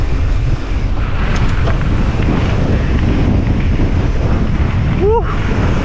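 Strong, steady wind buffeting a rider on a mountain bike trail at Glentress in Scotland roars continuously, loud and close throughout, with a short bird-like chirp near the end.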